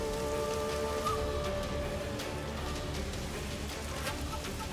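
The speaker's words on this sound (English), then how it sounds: "Sir, it's raining heavily." Heavy rain pours down in a storm, a steady, dense hiss of downpour that fills the whole stretch at even loudness with no voices.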